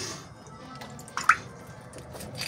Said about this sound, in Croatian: Ovo ako kaplje, pomalo me se kaplje